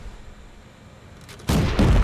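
Tank cannon fire in World of Tanks erupts as a sudden loud boom after a quiet stretch, followed by a sustained burst of impacts and rumble; a faint earlier crackle precedes it, with no talking.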